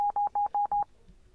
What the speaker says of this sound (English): the beeping sound is actually different